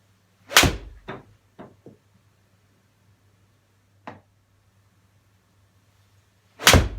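Sharp impacts from a Mizuno golf club fitted with a Project X shaft striking balls during a custom fitting, loud and close, each hit followed by a short decaying rattle, with quiet gaps between shots.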